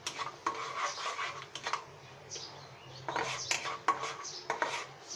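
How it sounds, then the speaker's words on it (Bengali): Torn bay leaves get stirred in a pan for semolina, a quiet run of metallic scrapes and clinks from a spoon against the pan, in short uneven bursts with gaps between. "এখন আমি একটু নেড়ে নিব"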